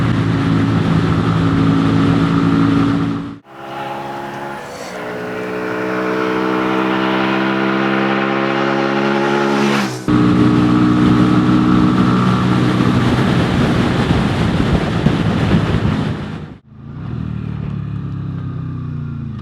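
A Keeway RKV125 motorcycle engine drones steadily while riding, its pitch climbing through each gear before brief drops at the shifts, loud and close with wind rush throughout.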